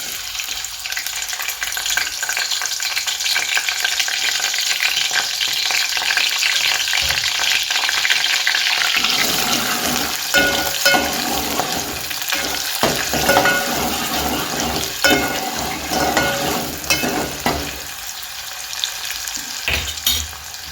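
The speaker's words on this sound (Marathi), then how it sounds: "आता मी कांदा आणि हा कढीपत्ता टाकणार आहे तेलात।" Onion and curry leaves fry in hot oil for a spicy village-style tilapia fish curry, producing a continuous loud sizzle that grows busier midway, punctuated by repeated stirring knocks and scrapes in the pan.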